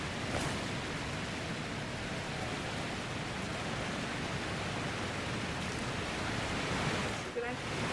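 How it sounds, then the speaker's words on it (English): Rushing waterfall in a video game, a steady, dense broadband roar of falling water that stays constant and fairly loud throughout, with no other distinct sounds. "Waterfall."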